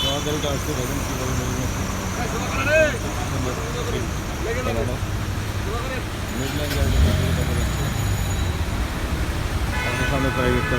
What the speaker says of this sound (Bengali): গাড়িটা আসতে দেখুন কীভাবে